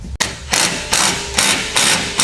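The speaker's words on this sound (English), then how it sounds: "you're going to tighten your actual pivot bolts and give it a little bit of love" Pivot bolts on a Ranch Armor rear bumper for a Honda Pioneer 1000 are tightened with a ratchet, a steady series of loud, close metallic clicking bursts repeating roughly every half second, with no talk.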